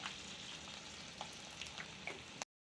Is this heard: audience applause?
no